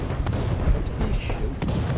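A HEAT round hits tank armor in a video game with a heavy booming impact, joined by several dull thuds and crackling blasts over a low rumbling background.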